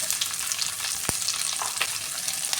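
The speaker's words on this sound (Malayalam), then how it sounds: "ഇനി ഇതിലേക്ക് ഈ സവാള, ചെറിയുള്ളി, കറിവേപ്പില അതും കൂടി ഇട്ട് കൊടുക്കാം." Onions, shallots and curry leaves frying in a pan for chicken curry, a steady dense sizzle with a sharp clatter near the middle and a few softer stirring knocks, close and continuous with no talking.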